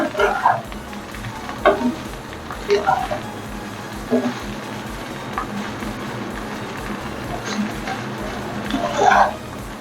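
Vegetable cheese fried rice sizzles steadily in a pan over low gas, with occasional stirring scrapes and clinks punctuating the continuous frying hiss, and a voice speaking briefly.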